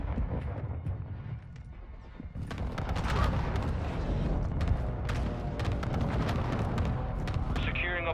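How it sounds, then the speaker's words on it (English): Heavy explosions and gunfire from a precision airstrike in Call of Duty: Modern Warfare II make dense, continuous booms and crackling shots. Game voices call out over the din. "Enemy precision airstrike. Find cover."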